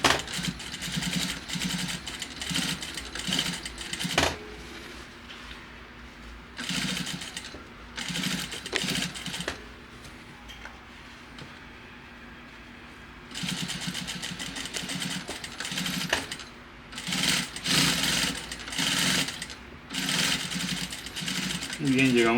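Sewing machine running in bursts as it stitches a seam on a tailored vest at a one-centimetre allowance, several stop-start runs of steady mechanical whirring with pauses, close and fairly loud, with someone speaking in between.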